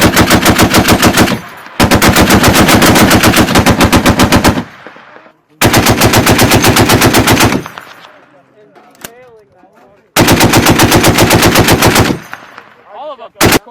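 U.S. Marines of Combat Logistics Battalion 22 fire a machine gun on a range in Norway, loud sustained bursts of rapid automatic fire with short pauses between them, four long strings in all, with faint voices between bursts.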